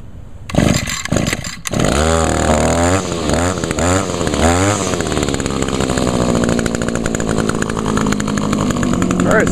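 A gas-powered string trimmer starts up and holds at wide open throttle, a loud, steady engine whine that begins after a few brief pulls and runs continuously to the end.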